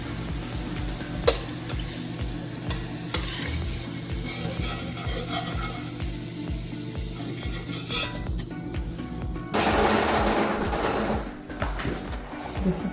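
Continuous sizzling of pholourie dough frying in hot oil, with occasional scrapes and clinks of a utensil stirring in the pot, close by.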